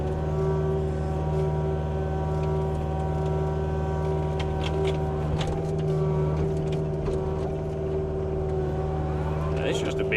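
A tractor engine drones steadily from inside a heated and air-conditioned cab, a low constant hum with some rattles and clicks over the top throughout.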